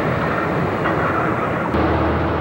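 A freight train rolls through Allentown, a loud, close, continuous rumble and rattle of railcars with a brief shift in tone near the end, no voices.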